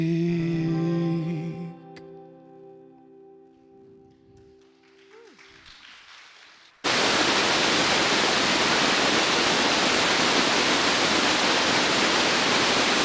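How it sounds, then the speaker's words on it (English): Sustained tones fade into near quiet, then a loud, steady rushing of waterfall white noise abruptly begins and continues evenly. "The waterfall, white noise."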